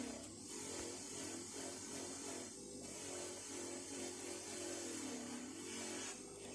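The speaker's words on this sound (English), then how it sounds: "we'll try it on a nice big vicious wire wheel, flick off all the rust marks" A big, aggressive wire wheel scours rust from an old Zerem No. 400 multi wrench socket tool, giving a steady, close, continuous whirring grind with no speech throughout.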